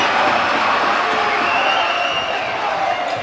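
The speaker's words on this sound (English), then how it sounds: "Crowd is fired up." A packed high school boys basketball crowd in a gym roars with continuous loud cheering and yelling, a dense wall of voices that holds steady throughout.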